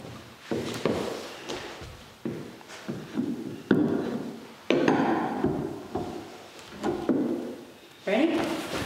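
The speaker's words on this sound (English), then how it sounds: "we have a piece of wood and a pry bar, and we're going to try to lift the door up and then push it up onto its hinges" A heavy Victorian door is pried up with a pry bar and a piece of wood to seat it on its hinges, producing a series of sharp wooden knocks, scrapes and thuds at irregular intervals, close and fairly loud.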